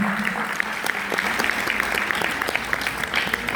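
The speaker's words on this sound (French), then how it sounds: "applaudissez-les s'il vous plaît très très fort" Loud, dense audience applause at a school event honouring students of a lycée, continuous sharp clapping holding steady throughout.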